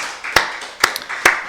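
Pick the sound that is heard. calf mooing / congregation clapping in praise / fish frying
congregation clapping in praise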